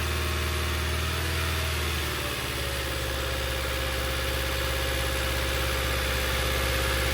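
A car engine with a suspected head gasket leak idles steadily after its cooling system pressure is released, a loud, continuous low rumble with a constant hum and no breaks.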